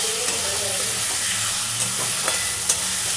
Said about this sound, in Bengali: রসুনটা ভালো করে আলুটার সাথে ভেজে নেব।